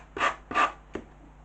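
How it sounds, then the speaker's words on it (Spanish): A slightly worn sanding block rasps diagonally across decoupage rice paper in three short strokes, two fuller and one lighter, close and alone. "ahora con un taco de lija, si puede ser un poquito desgastado, vamos haciendo"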